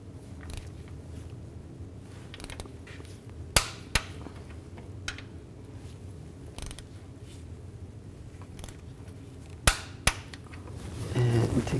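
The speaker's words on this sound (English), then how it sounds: "Use a torque wrench and torque these to 37 foot-pounds." A torque wrench works on the starter mounting bolts of a 2000–06 GMC Yukon, giving a few sharp metallic clicks and knocks over quiet background mechanical creaking.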